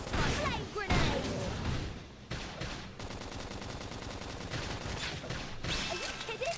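Gunfire during a Xenoblade Chronicles X battle: a sustained run of rapid, evenly spaced shots follows a few sharp bursts, at moderate loudness with game noise and effects around it.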